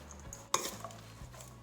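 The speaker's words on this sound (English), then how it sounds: "I'm going to give that a quick stir" A carrot and potato fritter mixture with garam masala is stirred in a bowl, one sharp scrape or clink at the start of the stir followed by quieter rustling and a few light taps, close and otherwise quiet.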